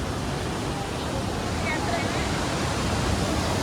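Fast-flowing Himalayan river rushing nearby, a dense, steady roar of churning water with no breaks, loud and constant throughout.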